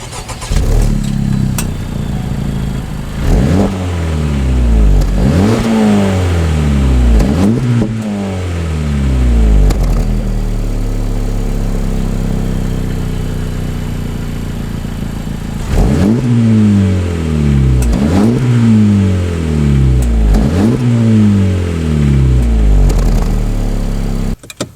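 A 2023 Honda Civic Type R engine revved in bursts, several rising blips in quick succession, a pause with idle, then another series of sharp revs, loud and close.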